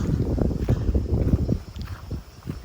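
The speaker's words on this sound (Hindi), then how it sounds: "हवाओं के साथ एक कटती हुई सॉफ्ट आवाज़" Wind blowing through dense, forested mountains in Himachal Pradesh, a steady, gusty low rumble buffeting close to the microphone, with no voices.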